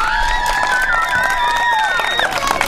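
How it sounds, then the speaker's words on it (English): Crowd at a 10U youth softball championship game cheers and claps after a player is called up, with children's high shouts and whistling voices riding over a bustling, lively mix. "Big round of applause for DeHaven."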